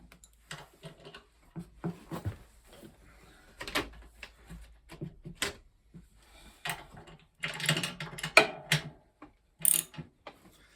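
A hand tool clicks and ratchets in irregular short bursts while bolts are tightened on the refitted motor of a Bosch WFP3300 washing machine, with close mechanical rattles between the strokes.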